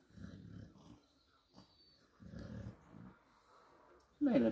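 French bulldog puppies growl in short, low bursts while play-biting a leg, the rumbles coming in two or three close clusters with a louder scuffle at the end.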